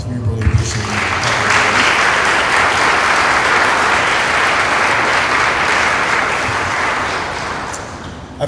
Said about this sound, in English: We give David one more round of applause.